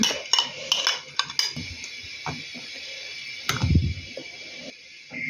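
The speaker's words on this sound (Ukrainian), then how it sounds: "Я додаю сюди сметану цю. І так буду швиденько помішувати це все." A spoon clinks and scrapes against a pot while sour cream is stirred into green borscht with smoked sausage, a run of quick metallic taps and swirls, close and fairly loud, with no talking.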